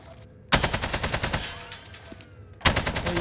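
Automatic fire from an AK-47 in the Call of Duty Warzone video game on the Caldera map: two rapid bursts of sharp, loud shots, the first longer and fading into echoing reports, the second starting near the end, with no talking.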